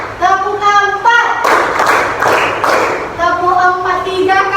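Students in an Indonesian language classroom answer a teacher's counted clap call with a short run of loud, close hand claps, and voices speak before and after the claps.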